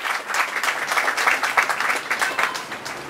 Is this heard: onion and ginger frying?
no